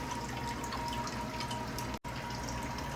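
Water pours steadily into a Blue Jelly shrimp aquarium tank during a reset, a continuous close rushing wash with faint dripping, alone and without talk, briefly cut near the end.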